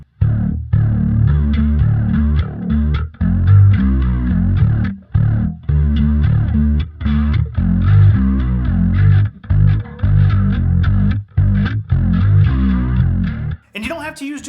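Electric guitar played through distortion and then a chorus effect in an amp's FX loop, loud and close, a thick swirling chorused distorted tone in chopped phrases with brief gaps.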